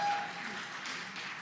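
Audience applause follows a dance performance at an Arangetram, a moderate, steady patter of clapping from a hall crowd lasting a moment.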